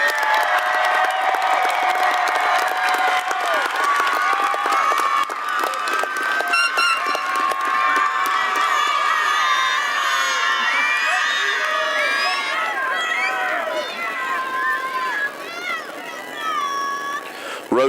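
A large crowd at a Russell County Schools graduation ceremony applauds and cheers for graduates, with sustained clapping, whoops and children shouting filling the space loudly throughout, voices mixed into the roar.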